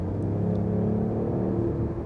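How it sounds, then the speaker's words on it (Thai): A BMW i8 accelerates with a low, steady engine and exhaust rumble and a whirring tone, heard from close by at moderate loudness with no voices. "นี่ครับผมกดคันเร่ง ปุ๊บ รถก็พุ่งทะยานไปข้างหน้าทันที ก็มี เสียงดังออกจากท่อไอเสียบ้างนะครับ"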